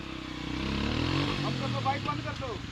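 Motorcycle engine idling and running steadily on a mountain road, with a low continuous drone throughout while people talk over it.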